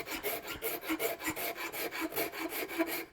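A Shinto rasp files the wooden handle of an axe in quick rhythmic strokes, a close, steady, scratchy rasping repeated about a dozen times with no talk.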